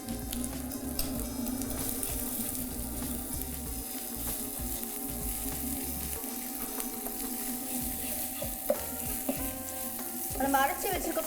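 Ground spice paste frying in a pan for a gravy, a continuous close sizzle with scraping and stirring sounds from a spoon, steady throughout and ending in a slightly louder rustle of stirring.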